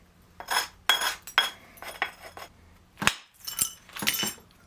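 A small hammer taps on metal during blacksmith or tool work, giving a handful of bright, ringing clinks spaced irregularly, each one sharp and close with a short metallic decay.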